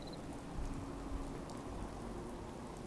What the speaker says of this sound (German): Das ist Regen. Regen wahrscheinlich.